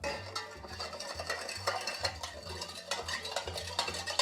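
Chicken stirred in sweet and sour sauce in a pan, a steady run of scraping and clinking spoon strokes against the pot, close and fairly quiet, with no talking.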